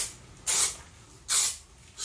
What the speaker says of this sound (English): spray tack around the perimeter.